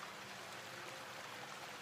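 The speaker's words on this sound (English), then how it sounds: "focusing on the sounds of the water" Steady broadband rush of running water, continuous and even throughout, like a nearby stream flowing with no other sounds.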